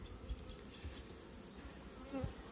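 Honey bees hum steadily at an opened hive while a colony is being split after the acacia bloom, a faint, continuous close buzz with a few soft knocks.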